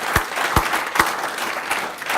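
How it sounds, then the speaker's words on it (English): An audience applauding new charter signatories on stage at an event: a short burst of moderate clapping from a small crowd with a few louder individual claps, steady throughout. "I'd just like to give a bit of a round of applause for our new signatories"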